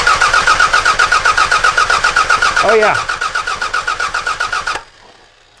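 A car engine cranks during a head gasket compression test, a fast rhythmic chugging of starter turns heard up close for several seconds before stopping abruptly; a brief voice comments partway through.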